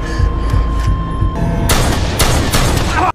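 Gunfire in the action film The Gunman erupts as a burst of loud, booming shots over a low rumbling score, several sharp blasts in close succession before cutting off abruptly.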